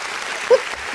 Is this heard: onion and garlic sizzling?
no